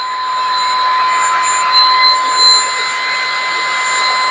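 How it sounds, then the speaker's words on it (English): An ALDI Stirling handheld stick vacuum cleaner with a 500 ml dustbin runs steadily, giving a loud, continuous whirring hiss with a high whine on top and no speech. "this is the vacuum cleaner"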